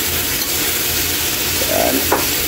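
Octopus being stirred and sautéed in a pan gives a steady loud sizzle throughout, with a couple of soft scraping stirs near the end and no speech.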